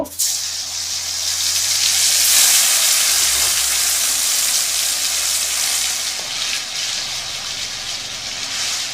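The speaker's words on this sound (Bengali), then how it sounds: "এই তেলে আগে পনিরগুলো ভেজে নেব" Paneer fries in hot oil, producing a loud, steady sizzle and hiss that swells early and then holds evenly, heard close up without talk.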